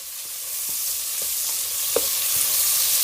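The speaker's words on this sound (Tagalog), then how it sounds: "magpainit ng mantika sa isang pan at maggisa ng luya" Ginger, onion and garlic sautéing in hot oil in a pan, a loud, dense, continuous sizzle with a few faint utensil taps, close up, with no talking.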